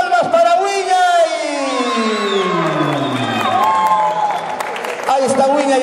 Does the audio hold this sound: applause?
yes